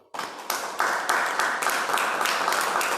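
A church congregation applauding, a steady roll of many hands clapping that swells in quickly and keeps going at even strength in a reverberant hall.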